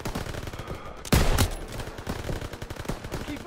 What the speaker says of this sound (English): MGs, open fire.